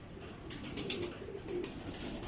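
Teddy pigeons coo softly on a rooftop, a few low throaty coos with light rustling close by, faint and brief.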